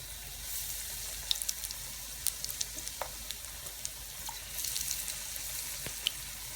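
Unniyappam batter fries in a pan with a steady, fine sizzle and scattered small pops and crackles at moderate loudness, without any voices.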